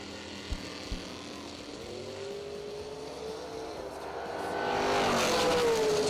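Drag race cars, a Camaro and a Chevy II, idle with a couple of sharp pops, then rev and build into a loud, rising roar as they launch.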